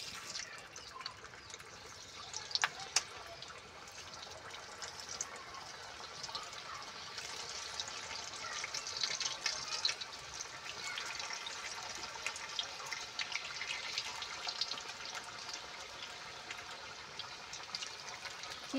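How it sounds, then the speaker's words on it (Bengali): Boiled potatoes fry in a little oil in a wok in a home kitchen, giving a steady, close crackling sizzle with small pops throughout and no voices. "আমি এদিকে আলুটা ভেজে নেব"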